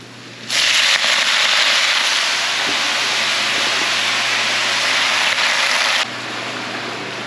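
Mustard greens hit a hot wok and sauté with a loud, sudden sizzle that starts sharply, holds as a steady broad hiss for several seconds, then drops back down.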